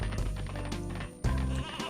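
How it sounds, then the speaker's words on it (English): Sheep bleating in the video game Space Station Silicon Valley, two loud, close, wavering bleats back to back, with no talk over them. "Okay, so we get another sheep over here."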